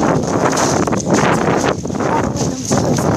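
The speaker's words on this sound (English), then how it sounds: "It's really windy." Strong wind buffeting the microphone outdoors on a walk to school, loud rumbling gusts that rise and fall throughout.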